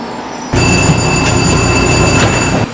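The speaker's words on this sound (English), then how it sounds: "Now arriving on track 5 is a St. Petersburg Limited Southbound Express service" A St. Petersburg Limited Southbound Express train pulls in on track 5 in the Trainz railway simulator at an East Coast station, a loud steady rolling rumble with high whining tones that cuts in abruptly and runs about two seconds before dropping away.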